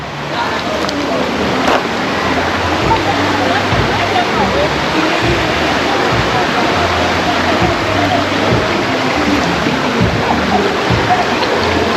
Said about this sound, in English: So the river is coming from that way, like from Garden Town side.